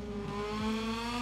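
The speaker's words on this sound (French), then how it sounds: "j'atteins le rupteur" Motorcycle engine in MotoGP 22 held against the rev limiter during a race, a steady high-pitched buzzing drone with a slight pitch dip midway, loud and continuous with no talk.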